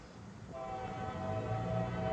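A westbound freight train in Huron, Ohio sounds its horn as it rolls along, the steady harmonic tone rising out of rumbling rail noise and holding to the end.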